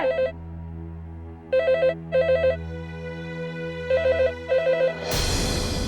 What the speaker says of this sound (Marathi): अगं फोन वाजतोय, कान फुटले की काय तुझे?